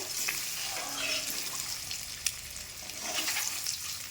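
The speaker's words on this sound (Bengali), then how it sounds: "আমি ডিমটাকে একটু একটু ভেজে নিচ্ছি দেখো একটু হলুদ একটু লং সরি একটু হলুদ একটু নুন দিয়ে একটু তেলে যে ভেজে নিচ্ছি" Egg frying in oil, seasoned with turmeric and salt, gives a steady, close crackling sizzle with scattered small pops and no voices.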